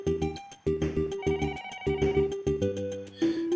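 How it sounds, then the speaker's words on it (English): A telephone rings repeatedly in a Japanese suspense drama scene, a loud electronic ringtone of short bursts with brief gaps between them, heard alone without talk. "The phone again."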